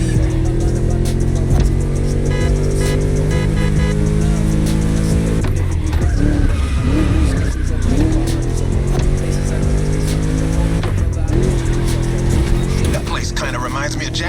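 A V8 car engine roars in the racing video game The Crew Motorfest, revving and shifting loudly through the whole stretch, with pitch rising and dropping between gear changes and a voice talking over it.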